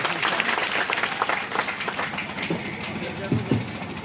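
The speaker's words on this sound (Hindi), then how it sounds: "जोरदार तालियां" An audience at a public gathering claps steadily, with a fairly dense, sustained round of applause and a few murmured voices mixed in.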